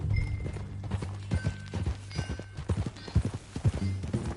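Horse hooves clip-clop in a steady, uneven rhythm close by in Red Dead Redemption 2, with light background music beneath.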